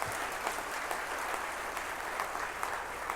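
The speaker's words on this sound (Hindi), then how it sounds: "अटल जी के लिए बस इतनी ही तालियां ना" Steady audience applause at a stage event, a dense continuous wash of clapping from a crowd throughout, with no talk over it.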